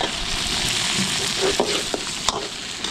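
Garlic and onion sautéing in a pan for a catering service, a loud close sizzle with intermittent scrapes and knocks of the spatula against the pan.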